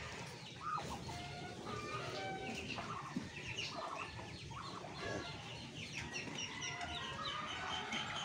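Backyard chickens kept alongside pet ducks cluck steadily in a continuous farmyard chorus, moderately distant, with scattered calls overlapping over a constant background hum.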